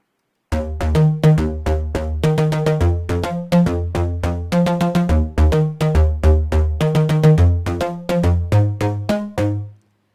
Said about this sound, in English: Just kind of a nice woody combination of synths